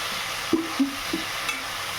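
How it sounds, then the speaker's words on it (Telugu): Tomatoes frying in a pan for a greens chutney, a soft steady sizzle broken by a few brief scrapes of stirring, close and without talk. "కొంచెం టమాటాలు వేగిన తర్వాత"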